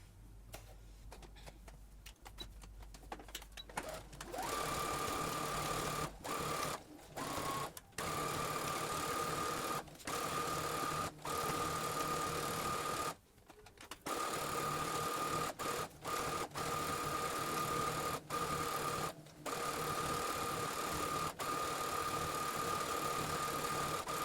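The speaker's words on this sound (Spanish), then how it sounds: "Simplemente voy a coser de aquí hasta la otra plaqueta." Sewing machine running steadily as it stitches along the button placket of a dress, a loud continuous mechanical whir with several brief pauses between runs.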